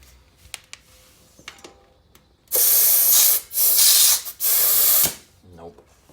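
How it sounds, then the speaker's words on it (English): An air compressor blasts air into a tubeless bike tire set up with the split tube method, giving three loud hissing rushes in quick succession, close up. Quiet clicks and handling noises come before them. "get your air compressor and let's see if it'll actually seal"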